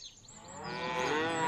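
A single cow lets out a long moo that starts faint and swells steadily louder and fuller, heard alone without talk.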